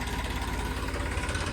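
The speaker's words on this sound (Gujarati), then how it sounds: "સુંદરી મુંદરી ટ્રેક્ટર જવા દે હવે" A tractor engine runs steadily at idle nearby on a farm while fodder is loaded, a continuous low mechanical drone with even loudness and no speech.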